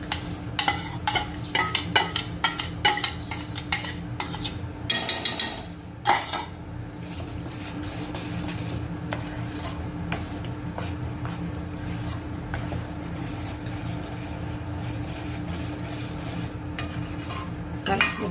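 A spoon scrapes and clinks against a pan while fried onion and tomato purée are stirred over medium heat, a repeated metallic scraping rhythm with a brief pause midway and a soft sizzle beneath.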